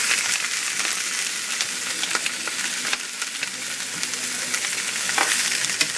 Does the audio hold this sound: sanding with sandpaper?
no